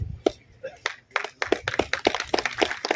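Scattered hand claps from an audience at a political welcome ceremony: sharp, uneven individual claps that start sparse and grow busier, with no steady roar of applause.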